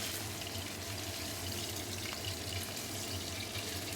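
Tap water runs steadily into a sink as fish is washed, a continuous close splashing hiss with no speech.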